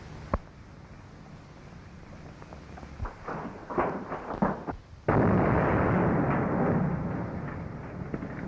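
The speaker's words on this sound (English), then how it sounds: "The main tunnel's blown up." Explosion blowing up a main mine tunnel in a 1944 Western film, scattered sharp pops and thuds building up before a sudden loud blast that rumbles on and slowly decays.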